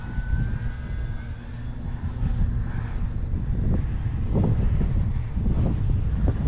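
An RC airplane making a low pass in windy conditions, its engine a loud steady drone close by, with wind buffeting the microphone throughout.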